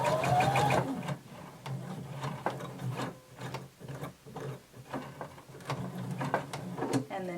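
A sewing machine stitches a dress bodice and then backstitches, its needle running in quick rhythmic bursts with short pauses and a mechanical clatter, close and fairly quiet, with no talking.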